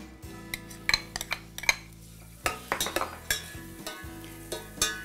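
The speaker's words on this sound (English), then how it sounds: "heating 1 tablespoon of oil in a saucepan and adding 1 chopped onion" Chopped onion cooking in a tablespoon of oil in a saucepan, a low steady sizzle under repeated scraping and clinking of a utensil stirring against the pan, close and with no talk.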